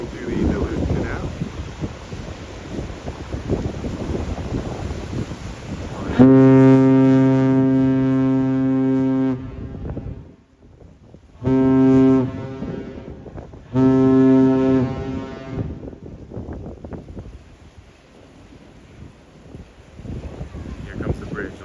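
Ship horn salute from the freighter Federal Hudson passing through the Duluth Canal on a rainy night, three deep, loud blasts, one long followed by two shorter, carried over wind and rain with people talking before and after.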